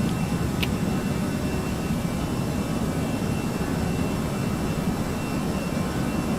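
Air Canada Airbus jet engines in Flight Simulator X, heard from the cabin during a climb toward 37,000 feet: a steady, loud broadband roar with a low rumble, unchanging throughout.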